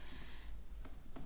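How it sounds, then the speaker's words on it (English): Faint clicks of typing on a computer keyboard, a few soft keystrokes spaced apart over a low background hum. "I don't know what I'm typing over there."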